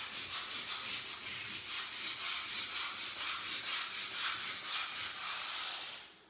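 Concrete floor cracks being roughed up by hand before epoxy coating, a close, rhythmic abrasive scrubbing with steady back-and-forth strokes about three per second, fading out at the end.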